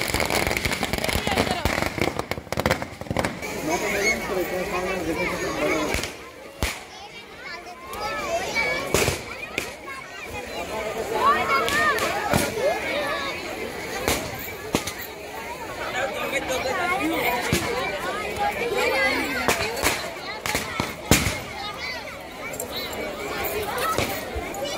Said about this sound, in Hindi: बहुत सारे पटाखे फूट रहे थे।